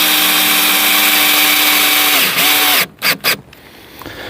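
A power drill drives screws into wood while building a trash can corral. A loud, close motor whine holds steady, slows and stops, then two or three short bursts follow before quiet.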